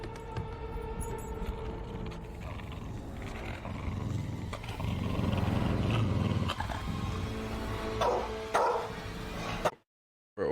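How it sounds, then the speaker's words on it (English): A dubbed, artificial dog growl from the TV show Stargirl rumbles low and sustained over a dense music and ambience bed, then cuts to silence near the end. "why they put some fake growl on the dog"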